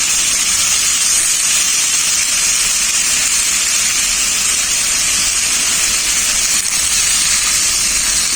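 Water is poured into cooked-down frying spice paste for a phulori curry, bursting into a loud, continuous steamy hiss and sizzle that holds steady throughout, with no talking.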